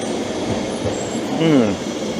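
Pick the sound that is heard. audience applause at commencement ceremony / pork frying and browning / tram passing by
tram passing by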